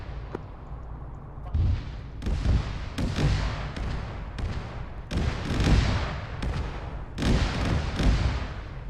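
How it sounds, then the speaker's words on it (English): Artillery shells explode against a building in an Arma 3 battle, giving a series of deep, heavy booms and thuds at irregular intervals, some close and loud, over a low rumbling background. "If you hear explosions behind you, it's artillery on that building"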